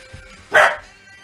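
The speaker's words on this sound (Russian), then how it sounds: "Вот так вот громко гавкать" One loud, sharp dog bark rings out close by over a faint background hum, with nothing else around it.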